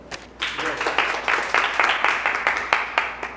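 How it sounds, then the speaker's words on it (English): A Toastmasters club audience in Medina claps for a toastmaster after his speech, a small group's distinct, rhythmic handclaps starting after a brief pause and continuing steadily, close and moderately loud, with faint background voices. "a round of applause for Toastmaster Abdullah"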